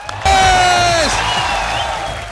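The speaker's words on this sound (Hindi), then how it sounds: "आपकी जोरदार तालियों के बीच स्वागत करना चाहूंगा मिस्टर इरफान खान का।" A studio audience at The Kapil Sharma Show, a Hindi comedy talk show, breaks into loud applause and cheering to welcome a guest, bursting in suddenly and holding steady under a rising musical sting.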